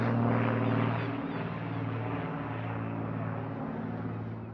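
Two aerobatic display aircraft fly close together overhead at an airshow, a steady droning engine roar that is loud at first and then eases slightly while holding a constant level.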